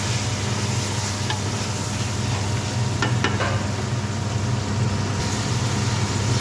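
Chicken pieces sizzle and fry in a pan for chicken pulao, with steady close sizzling under occasional scraping as a spoon stirs them, continuous throughout with no talking.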